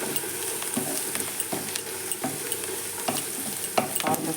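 Vegetables for rava upma sauté in a pan on a large stove, giving a steady sizzle with frequent rhythmic spatula scrapes and taps close by.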